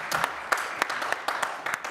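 Brief applause from a conference audience at a quantum-computing panel discussion, a moderate patter of clapping lasting under two seconds with a voice faintly underneath.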